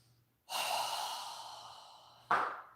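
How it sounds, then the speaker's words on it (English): A long, open-mouthed exhale during a group yoga breathing exercise, a loud breathy rush that slowly fades over about two seconds, then a short sharp second breath at the end. No one talks. "take a deep breath, inhale with our hands up toward the ceiling, and exhale with your mouth open wide"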